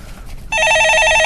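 An incoming call sets a telephone ringing: after a quiet half second, a loud electronic ring starts abruptly and warbles steadily to the end.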